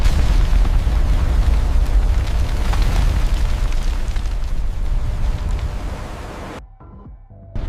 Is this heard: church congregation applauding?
no